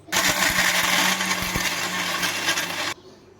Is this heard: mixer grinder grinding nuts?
yes